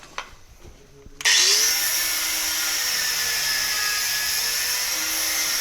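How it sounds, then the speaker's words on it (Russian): An angle grinder cutting a stuck, worn bolt on a KAMAZ truck with a BMW disc: after a brief quiet start, a sudden loud, sustained high whine and hiss of the disc biting metal, continuing steadily to the end. "Поэтому нужно применять тяжелую артиллерию. Специально болгарка для BMW и круг BMW."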